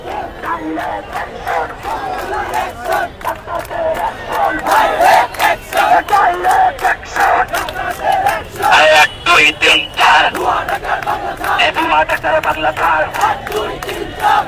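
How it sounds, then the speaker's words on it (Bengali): A protest crowd in front of the High Court in Dhaka chants slogans in loud rhythmic bursts, many voices shouting together in a repeating pulsing pattern. "তারা এখানে নানা রকম স্লোগান দিয়ে যাচ্ছেন"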